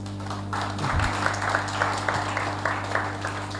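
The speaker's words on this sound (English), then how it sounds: "I want you to clap for yourselves." An audience at a women in fintech hackathon claps with steady, moderately loud applause in an indoor hall, over a constant electrical hum, with a brief low thump near the start.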